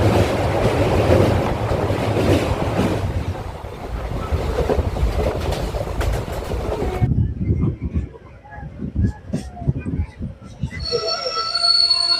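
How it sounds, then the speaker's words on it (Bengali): A passenger train on the Howrah to Digha line pulls out of a station, a loud, continuous rumble of wheels on rails with metallic squeals and clanks, close by, easing into quieter rhythmic clicking and rattling in the later part. "আমাদের ট্রেন ছাড়লো এই স্টেশন থেকে দীঘা যাওয়ার উদ্দেশ্যে"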